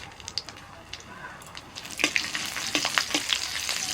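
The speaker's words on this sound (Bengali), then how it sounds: "আবারও কড়াইতে অল্প তেল দিয়ে ওর মধ্যে ফোড়নে দিচ্ছি কালো জিরে চার পাঁচটা কাঁচা লঙ্কা" Nigella seeds and green chillies crackle and sizzle in a small amount of hot oil in a wok, with sharp pops scattered over the frying hiss that grows louder toward the end.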